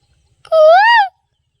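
A human voice imitates the call of an Asian koel (cuckoo) with a single drawn-out, rising-then-falling 'koo' note, close and clear, with silence before and after.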